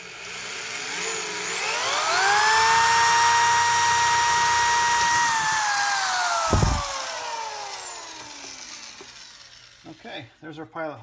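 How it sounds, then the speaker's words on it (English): A power drill whirs up to speed and runs steadily for several seconds drilling a pilot hole in metal on a Mustang AOD transmission, its pitch sagging slightly under load before winding down, with a brief clunk near the end. "That's where we're going to drill our pilot hole."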